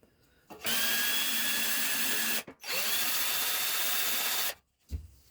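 Power drill boring through a template into pallet wood for a coffee table, two sustained whining bursts of about two seconds each, close and loud, separated by a brief pause.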